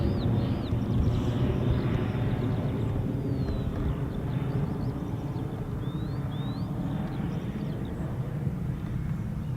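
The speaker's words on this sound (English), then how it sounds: "Just looking out for the C-17, it is nearby." US Air Force C-17 heavy transport aircraft approaching RAF Mildenhall, a steady low engine rumble droning at moderate distance, with faint bird chirps scattered above it.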